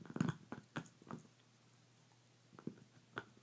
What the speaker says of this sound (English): if you hear crunching, that's my dog munching on her bone.